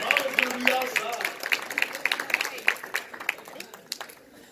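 An audience at a Wakandacon panel applauds the panelists with a burst of crowd clapping that tapers off over a few seconds, while voices carry on through it.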